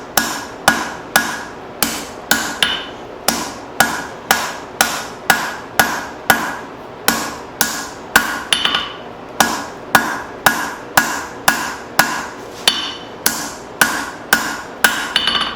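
Steady hammer blows on hot steel as a taper is forged on a spoon blank, about two strikes per second in an even rhythm with brief pauses, close and loud with ringing metallic hits.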